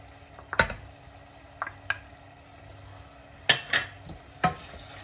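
Chopped spring onion frying in a mussel sofrito for Valencian tigres de mejillón: scattered clinks and scrapes of a utensil stirring the pan over a soft, steady sizzle, close by, with no talking.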